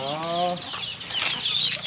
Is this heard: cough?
no